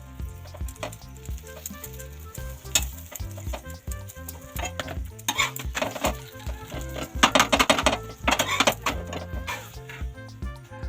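Aloo paratha fries in ghee on a hot pan, a steady sizzle broken by scraping and stirring clatter that grows busier partway through.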